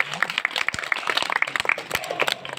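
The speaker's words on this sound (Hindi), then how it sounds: "तालियां बजा दो सब लोग।" A crowd at a Bundeli folk khel show claps in scattered, irregular bursts, with voices talking alongside the applause.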